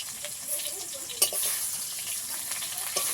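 Ginger paste fries with browned potatoes in hot oil, a steady close sizzle with occasional clinks and scrapes of stirring.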